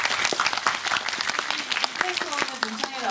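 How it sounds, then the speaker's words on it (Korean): Audience clapping at a Korean film screening and guest event, a crackle of many hands at moderate volume with a voice speaking over part of it. "여러분 박수 부탁드립니다."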